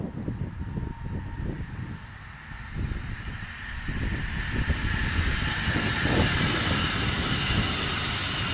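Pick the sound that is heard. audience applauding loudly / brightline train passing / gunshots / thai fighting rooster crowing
brightline train passing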